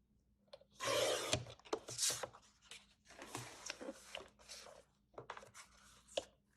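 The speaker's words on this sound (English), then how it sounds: "So now I'm going to go ahead and trim off the excess around my mat." Scissors or a blade cutting excess paper around a scrapbook mat, a few close, crisp snipping and rasping strokes in uneven bursts with short pauses, no talking.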